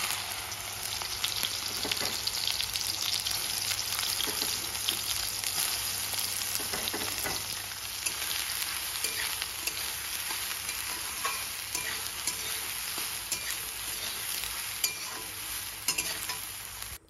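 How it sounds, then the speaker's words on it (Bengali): Soybeans seasoned with salt and turmeric fry in hot oil in a wok, giving a dense, continuous sizzle with scattered crackles and stirring scrapes throughout, close and steady with no talk. "এদিকে আমি হালকা লবণ আর হালকা হলুদ কিন্তু দিয়ে দিয়েছি, আর সেগুলো দিয়ে আমি ভাজছি।"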